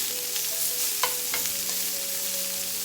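Meat frying in a cast iron pan sizzles steadily and fairly loudly, broken by a few sharp scrapes and taps as the pieces are moved around, close up with no talking.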